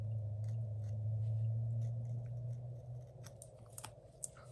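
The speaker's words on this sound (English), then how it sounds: "let's cut this around her glove and arm." Scissors snipping through paper tape wrapped around a figure's glove and arm, a few light crisp cuts late in the stretch over a steady low hum, close up and faint.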